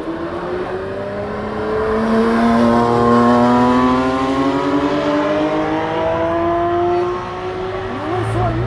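An Audi at the Nürburgring races past with a rising, sustained engine tone that swells and holds, close and loud, with people talking faintly under it.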